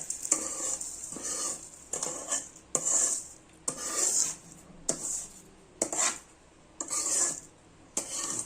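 Vermicelli roasting in ghee in a pan, stirred with a spoon, gives rhythmic scraping, rasping strokes about once a second over a light sizzle, close and steady, with no talking.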